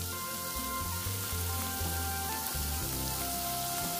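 Onions, green chili, cabbage, capsicum and paneer frying together in a pan, giving a soft, steady sizzle with faint clinks of stirring, close and alone.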